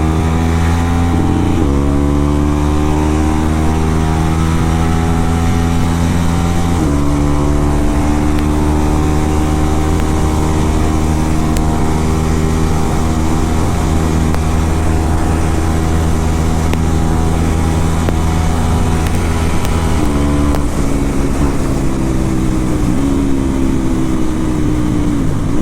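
A modified KTM Duke 390 Gen 3 motorcycle revs hard through the gears, loud and close, with abrupt quickshifter upshifts cutting the engine note before it climbs again.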